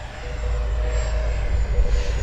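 An FMS Rafale RC model jet running on an SMC 4400 battery pack takes off and climbs, giving a steady, loud ducted-fan whine with a low rumble that holds throughout, no talk.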